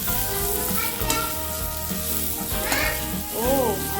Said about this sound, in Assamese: আৰু এতিয়া এইখিনি মই ধুনীয়াকৈ ভাজি দিম।